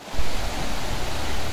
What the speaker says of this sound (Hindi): ये जो आवाज़ आपको सुनाई देना है ना, ये एक झरना की आवाज़ है